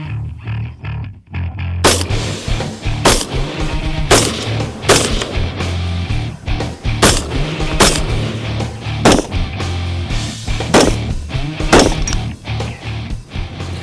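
Rifle shots ring out from a 5.56 tribute rifle, about nine loud, sharp cracks spaced roughly a second apart over a steady low outdoor rumble.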